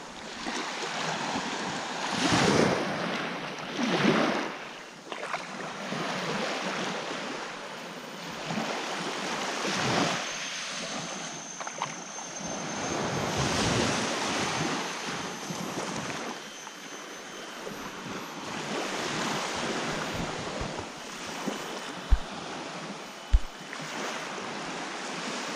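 Waves wash onto a beach at Port Dickson in a continuous, moderately loud surf rush with swelling breaks and some wind noise, and no talking.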